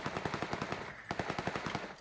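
Rapid SKS rifle gunfire in the battle royale game PUBG Lite, a fast string of evenly spaced loud shots with a brief break midway before the burst resumes.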